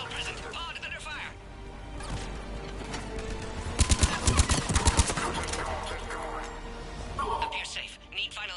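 Bursts of gunfire hit an escape pod in the sci-fi shooter Mass Effect 3. The shots come in a dense, loud volley near the middle, with a synthetic voice talking and game noise around them.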